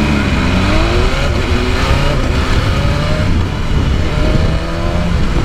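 A BMW M1000RR sport motorcycle engine revs loudly and steadily, its rising and falling exhaust tones running throughout without any talk.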